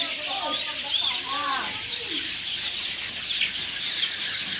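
Chickens in a poultry grow-out house during vaccination, a dense flock chattering and clucking continuously with a few louder calls, while a person talks briefly near the start.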